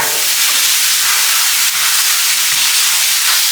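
Smash burger meat pressed flat and searing in a hot pan, a loud, steady, close hiss of sizzling fat with no talk, holding constant throughout.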